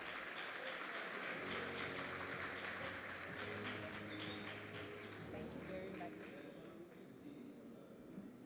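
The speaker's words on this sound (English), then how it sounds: "A round of applause" A round of applause from an audience at a youth weekend event, a dense continuous clapping mixed with low crowd murmur and some voices, holding steady before easing slightly at the end.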